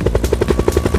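Helicopter hero Nikko in a video game, heard as a loud, rapid, even rotor thumping that beats steadily through the whole short stretch, with no talk.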